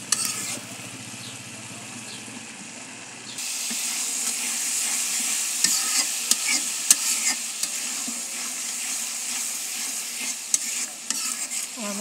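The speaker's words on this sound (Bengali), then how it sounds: "আমার মশলাটা কষানো হয়ে গেছে।" Spice paste frying on a clay stove for pumpkin greens with dried fish, a close hissing sizzle with irregular stirring clinks and scrapes, growing louder after a few seconds.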